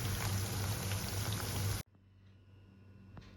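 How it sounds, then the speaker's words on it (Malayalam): Batches of chicken pieces frying in oil for butter chicken, a dense bubbling sizzle that stops abruptly partway through and gives way to near silence. "അപ്പം ഈ ചിക്കൻ ബാച്ചായിട്ട് ഫ്രൈ ചെയ്തെടുക്കുക"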